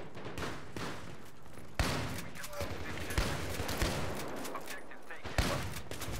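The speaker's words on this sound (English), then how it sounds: "all I hear is shotguns and light machine guns" Shotguns and light machine guns firing in the video game Battlefield 3 on the Donya Fortress map: dense, continuous gunfire from several weapons with sharp louder shots cutting through, and voices intermittently underneath.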